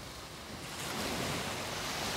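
Sea waves wash steadily onto the shore at Vung Tau Back Beach on a calm morning, a continuous broad surf hiss with wind, no voices.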